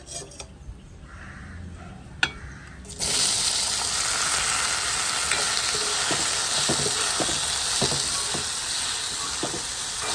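Pineapple drops into a hot pan for Jaffna-style pineapple chutney and at once sets off a loud, steady sizzle, with faint stirring clicks underneath.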